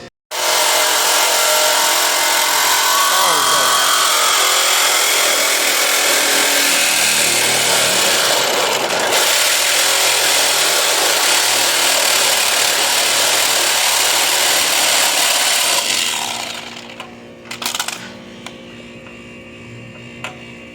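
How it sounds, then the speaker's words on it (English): A Sawzall reciprocating saw cuts loudly and continuously through a car roof to fit a moon roof, a harsh close-up grinding buzz for about sixteen seconds before it stops and only faint clatter and handling noise remain. "Let me grab the Sawzall and see here."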